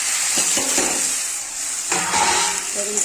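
Eggplant sizzling in spiced masala in a pan, a steady close frying hiss broken by a few scraping stirs.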